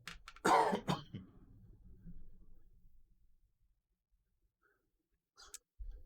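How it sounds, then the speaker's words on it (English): A single sharp cough close to the microphone, followed by quiet breathing and silence, then a brief rustle at the end. "It did catch my coughing"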